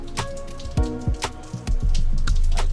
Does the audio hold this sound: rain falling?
yes